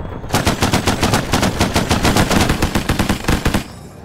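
Rapid automatic gunfire in the video game Arma 3, a loud, close, continuous burst of evenly spaced shots lasting about three seconds before cutting off.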